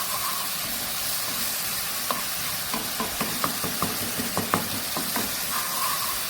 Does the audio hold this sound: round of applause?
no